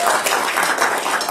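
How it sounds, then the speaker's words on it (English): Church congregation applauding during Easter Sunday morning worship, a dense, continuous patter of many hands clapping at once, fairly loud and close, with small pulses in intensity throughout. "Yes, you definitely can applaud."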